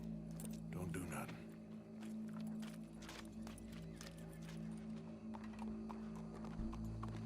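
Horse hooves clip-clop steadily in the Red Dead Redemption 2 video game, a soft, continuous plodding rhythm under a low hum and faint game ambience.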